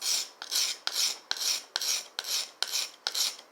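A wet sharpening stone is resurfaced with about eight steady back-and-forth rasping strokes, each a harsh gritty scrape with a short pause between, close and loud with no voices.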